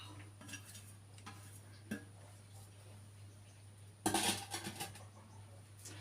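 A spoon stirring and mixing ingredients in a dish with curry leaves, coriander and ginger, giving soft scattered clinks, then a louder burst of scraping clatter near the end over a steady low hum.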